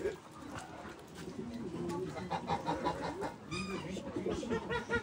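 Birds calling outdoors, cooing and clucking fowl-like calls mixed with a busy background, while a person talks over them nearby.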